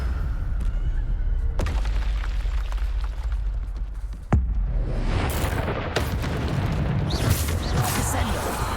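Bombarda blasting spell exploding in the Hogwarts Legacy video game, a sharp bang followed by a rumbling, crackling burst of debris amid ongoing game noise.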